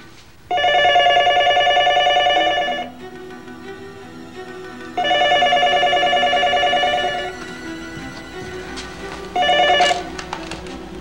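A telephone rings for a wrong-number call, repeating its loud bright ring in three bursts with short pauses between, the last one cut short, and no voices.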